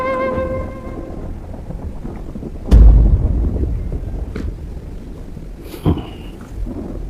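Steady rain with a sharp, close thunderclap a few seconds in and another fainter crack later, rumbling under the downpour, no talk.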